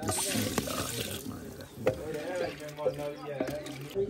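Water poured into a pot of fried chicken being cooked outdoors in a village kitchen, a steady splashing pour with some clatter, mixed with background voices.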